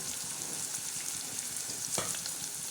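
Onion and tomato frying in a pan for a green chilli usal, a soft, even sizzle and hiss with faint stirring scrapes, no voices.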